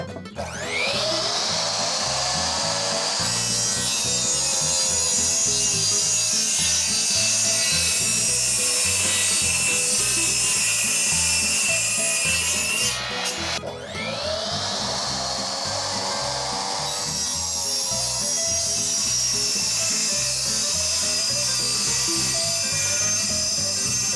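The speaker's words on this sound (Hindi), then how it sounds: "कटिंग तो बहुत अच्छी हो रही है, लेकिन अब ब्लेड बहुत ज़्यादा आवाज़ कर रहा है" A power saw blade cuts through wood for a DIY saw horse with a loud, steady whine, briefly pausing and restarting midway before grinding on continuously.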